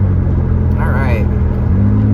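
A 1983 Volvo 242 cruising along the road, heard from inside as a steady low engine and road rumble that shifts slightly in pitch, with someone talking over it.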